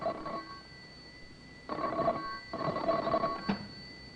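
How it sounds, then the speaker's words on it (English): Telephone ringing in an office as a radio drama effect, three bursts of a bright electric bell with short pauses between them, clear and fairly quiet. "the telephone rang in John Davis's office"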